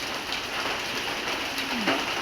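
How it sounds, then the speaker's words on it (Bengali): Heavy night rain pours down in a dense, steady hiss, close and continuous, with a faint bird call near the end. "এখন আর খুব বৃষ্টি হচ্ছে ঝুমঝুম করে"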